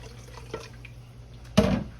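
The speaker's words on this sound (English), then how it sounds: "I'm gonna rinse this" Tap water bursts briefly into a pan at a kitchen sink, rinsing out beef stock remnants while cooking smothered cubed steak; a short, loud splashing gush after quiet kitchen room tone.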